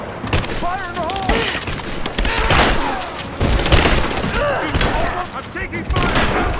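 Gunfire and explosions from the video game Rise of the Tomb Raider, dense and continuous with heavy booms and rattling shots, layered under shouted voices and a music score throughout.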